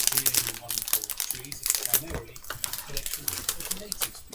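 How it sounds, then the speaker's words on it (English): Cellophane wrapper being pulled off a purchased item with a screwdriver stuck in it, a busy run of close crinkling and crackling bursts, with a person talking over it. "get this cellophane wrapper off"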